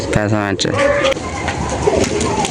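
Madras pigeons coo up close in soft, throaty bursts while someone speaks over them.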